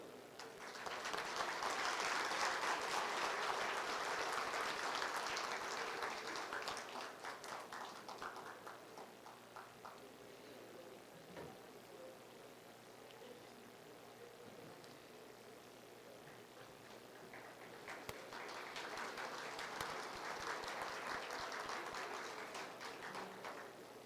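Audience applause at the 4th National Congress of Colombian Notaries, in two faint bursts of steady clapping with a quieter lull between them, distant and without voices.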